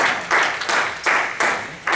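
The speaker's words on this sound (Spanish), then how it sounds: "¿Cuánto le dan un aplauso al Señor Jesús?" A church congregation applauds during a Spanish-language sermon, with loud, dense clapping that rises and falls in rhythmic bursts, roughly one surge every 0.4 seconds, as if clapping together in time.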